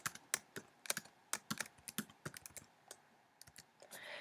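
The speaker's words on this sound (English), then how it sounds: "You would type in Curly there" Quick, irregular clicks of keys on a computer keyboard, close and fairly soft, tapping out a short entry with brief pauses.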